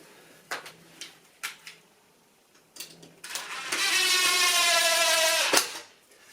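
A power drill bores holes through timber for a homemade TV wall bracket, a few short taps followed by one steady whirring run of about two seconds that stops abruptly, fairly close and alone.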